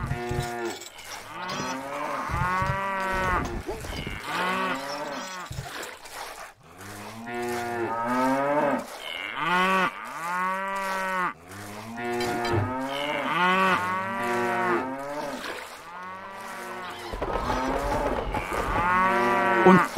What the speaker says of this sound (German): Und unsere Kühe werden von einer eigenartigen Krankheit dahingestreckt, my Lord.